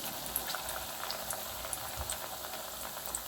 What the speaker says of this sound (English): So here I am dipping the sword bean in the batter which I prepared and frying it.